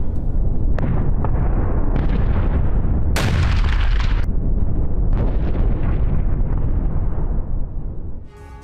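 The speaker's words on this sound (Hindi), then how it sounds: "विस्फोट से तबाह हुआ यूक्रेनी ड्रोन कंट्रोल सेंटर" A loud, sustained roaring explosion destroying a Ukrainian drone control centre in wartime, with rumbling blasts and crackling bursts, dense and close, ending abruptly after several seconds.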